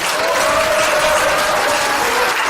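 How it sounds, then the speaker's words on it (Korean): Applause from an audience at a political campaign rally in Daegu, a steady loud wash of clapping mixed with crowd cheering and a held tonal shout or whistle running through it. "외부에서 함께 참여해 주신 분들께 특별한 박수를 부탁드립니다"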